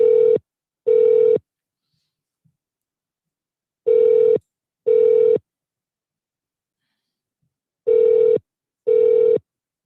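Telephone dialing tones sound in three pairs of loud, steady beeps spaced evenly apart with silence between, like a ringback pattern on a call going unanswered.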